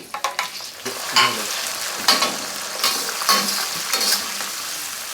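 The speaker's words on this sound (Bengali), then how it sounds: "তারপর আমি এখানে দিয়ে দিচ্ছি 1/2 কাপের মতো টমেটো কুচি" Chopped tomato hits a hot pan for spiced chickpeas, giving a crackling sizzle punctuated by several sharp scrapes and stirs of a spoon against the pan, fairly close and with no talking.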